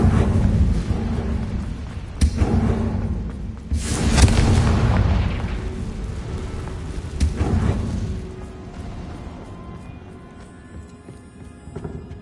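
The Confringo blasting spell explodes in Hogwarts Legacy, with loud, booming blasts and sharp cracks landing a few seconds apart over a heavy rumbling bed that gradually fades out.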